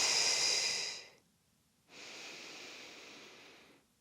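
Two long, breathy exhales during a mat pilates exercise with a pilates ring, close and fairly loud. The first fades after about a second and is followed by a short pause, then the second exhale is steadier and longer.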